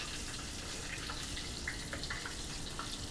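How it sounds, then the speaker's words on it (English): Breaded brook trout frying in hot grease at 350 degrees, a dense continuous sizzle with scattered pops and crackles. "now that this is all nice and pretty and breaded, you put it in your grease"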